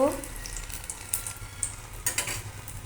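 Potato chops deep-frying in hot oil make a continuous close sizzle and bubbling, with scattered crackling bursts and faint background noise.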